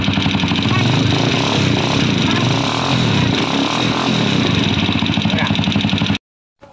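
A Honda TMX 155 motorcycle engine running steadily just after starting, a loud close mid-pitched putter with a light ticking, with a voice talking over it before cutting off abruptly.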